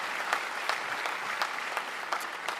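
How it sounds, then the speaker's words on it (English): Audience applause at a college commencement ceremony, continuous hall-filling clapping with a few sharper claps standing out in a loose rhythm, heard alone without speech. "So let's give him a round of applause."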